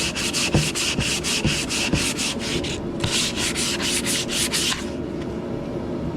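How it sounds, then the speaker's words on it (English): Rhythmic back-and-forth sanding on a wooden bellows flapper, steady rasping strokes repeating about twice per second, pausing briefly midway, close and loud. "I might do that with this flapper once I get done sanding it."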